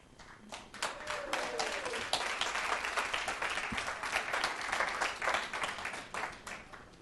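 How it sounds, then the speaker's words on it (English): Audience applause at a city council meeting after a vote passes, a steady burst of many hands clapping at moderate volume from a crowd of attendees, sustained for several seconds before tapering. "I even let you clap out loud."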